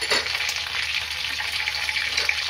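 Tomatoes hit frying onions in a pan during a Bengali mutton liver curry, giving a steady, bright sizzle with faint stirring, close and continuous.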